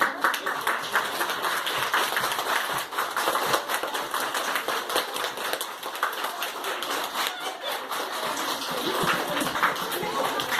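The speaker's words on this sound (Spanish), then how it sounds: "Un aplauso para ellos." Crowd applause for children at an outdoor Día de Reyes Magos celebration in San José Xonotla, dense steady clapping sustained for several seconds at moderate distance with no talk over it.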